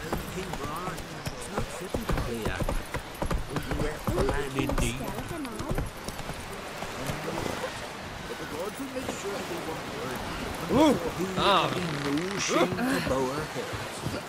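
Roach, a horse in The Witcher 3, gallops with a steady run of clip-clop hoofbeats, loud and close, while voices talk over much of it.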